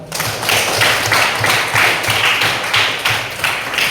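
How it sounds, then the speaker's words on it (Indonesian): Classroom students applaud a presenting group, a loud, close burst of many hands clapping with a slightly pulsing, uneven rhythm and no talk over it. "Kita beri tepuk tangan untuk kelompok 1."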